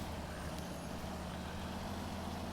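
A Kenworth truck grinds off-road in the video game Snowrunner, a continuous low engine rumble at modest volume with faint hiss on top and no talking.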